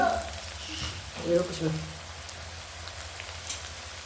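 Food frying in a home kitchen pan before tomato goes in, a soft broadband sizzle crackling steadily at low volume beneath a few brief, quiet spoken sounds.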